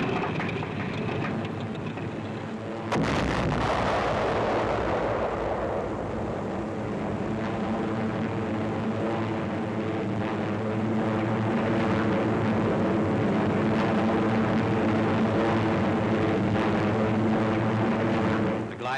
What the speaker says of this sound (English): C-46, caught by flak, dives toward the ground.